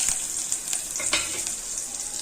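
Shallots, dried red chillies and curry leaves sizzle loudly in hot oil, a bright continuous hiss with crackling bursts and a few stirring scrapes, up close with no talking.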